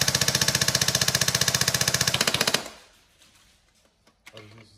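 Tokyo Marui P90 red dot airsoft electric gun test firing a fast, even full-auto burst of gearbox cycling for about two and a half seconds, loud and close, followed by near quiet with a few faint handling clicks.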